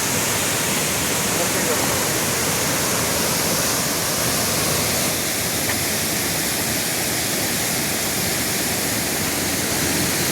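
Sanaghagra Waterfall in monsoon season, a dense, unbroken roar of falling water filling the whole clip, loud and steady with no breaks.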